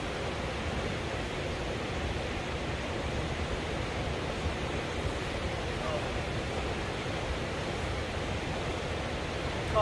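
Steady, dense roar of rushing water at Pinnacle Falls, a continuous broadband wash heard close and loud throughout with no breaks.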